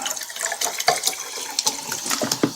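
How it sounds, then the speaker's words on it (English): Carbonated mineral water pours into a glass with a steady fizzing splash, close and fairly loud, small bubbling bursts and crackles running throughout with no talk. "Just going to get myself a little drink of mineral water"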